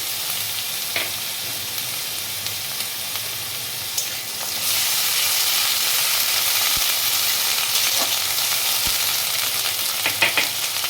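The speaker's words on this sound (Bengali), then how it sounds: "একটু হলুদ দিয়ে দিলাম ফোড়নে পেঁয়াজ বাটাটা দিয়ে দিলাম আদা বাটাটা দিয়ে দিচ্ছি" Onion paste, ginger paste and turmeric fry in hot tempering oil for a Bengali katla fish mustard curry, giving a steady loud hiss that swells into a stronger sizzle midway, with occasional spoon scrapes and taps, close up and without talk.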